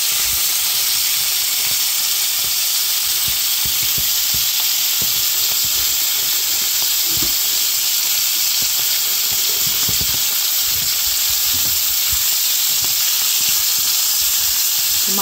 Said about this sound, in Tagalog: Ngayon, papakuluan ko na. So, ito ng ating longganisa.